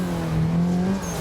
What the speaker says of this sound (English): Get the revs up.